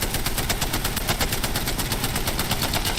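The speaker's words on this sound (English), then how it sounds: "So they said they changed the recoil at the beginning of the Spitfire" Rapid, unbroken automatic fire from the Spitfire machine gun in Apex Legends, loud and close, a dense stream of shots hammering without pause throughout.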